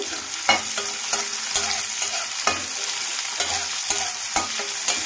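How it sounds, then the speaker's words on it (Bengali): Chopped onion and green chili stirred and frying in hot oil, a steady sizzle broken by repeated scraping stirs at a fairly even rhythm, close and clear with no talking. "তেলটা গরম হয়ে গেছে, এর মধ্যে দিয়ে দেব পেঁয়াজ কুচি, কাঁচা লঙ্কা কুচি দিয়ে একটু নাড়িয়ে নেব।"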